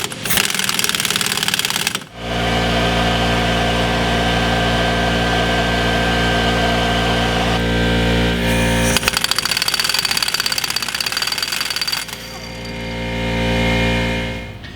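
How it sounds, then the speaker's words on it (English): A pneumatic impact gun hammers loose a tie rod jam nut in a steady, loud mechanical rattle with a buzzing whine, stopping briefly near the start and changing pitch partway through. "I'm going to be able to use an impact gun to extract the jam nut"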